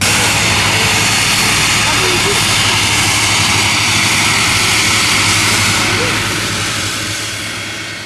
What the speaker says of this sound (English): Not every plane can take off from water and rocket into the sky. BE-200 is a beast.